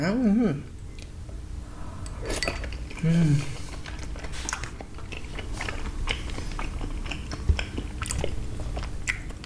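Someone bites and chews skewered pickled salmon and pickled shrimp up close, with moist crunching and smacking spread through the stretch, soft clinks of utensils, and a couple of brief appreciative hums.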